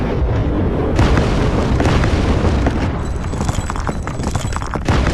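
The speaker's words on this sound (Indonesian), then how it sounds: "Detik berikutnya, energi besar meledak dari dalam tubuh Sasmita." A deep, rumbling blast rolls out loud and sustained, with crackling debris and low booms continuing for several seconds, no voices.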